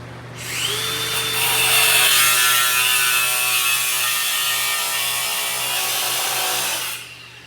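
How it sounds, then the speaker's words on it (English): An angle grinder grinding out thick stick welds on a steel hot rod crossmember made from a bed frame, a loud continuous high whine with abrasive rasp that spins up, holds steady for several seconds, then winds down. "it took many hours to grind them all out"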